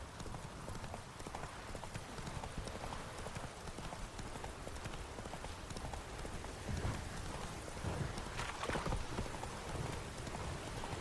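Roach, Geralt's horse in The Witcher 3: Wild Hunt, gallops in a steady clip-clop of hooves over a wash of rain, the hoofbeats continuous and fairly close throughout.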